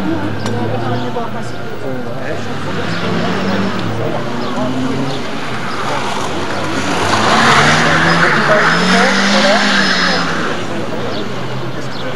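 Citroën AX rally cars racing at a 1991 auto pursuit event in Villeneuve-sur-Lot, engines droning and swelling as cars pass, with a rise in intensity midway, under steady commentary and crowd talk.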